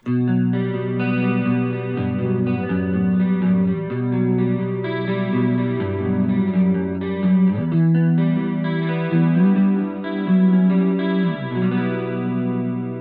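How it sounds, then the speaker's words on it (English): An electric guitar through a Roland Cube amplifier's stereo chorus effect plays a clean, shimmering chord progression with a wide, swirling chorus, sustained chords changing every couple of seconds. "I'm on the stereo chorus effect at the moment."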